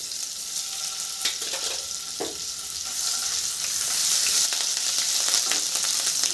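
Chopped green chilli and ginger paste fry in a pan for a home-style mixed vegetable dish, with a loud, steady hiss and crackle of hot oil and occasional stirring scrapes, growing slightly louder partway through, no voices.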